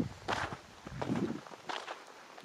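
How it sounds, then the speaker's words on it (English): Footsteps fall on a quiet road at night, a few soft, fairly close steps in an irregular rhythm over a near-silent background. "You can only hear my footsteps."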